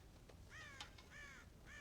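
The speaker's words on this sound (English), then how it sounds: "God damn crows!" Crows in the Red Dead Redemption video game caw repeatedly near a farm silo, several harsh rasping calls in an uneven rhythm, fairly faint against a low background rumble, with no speech.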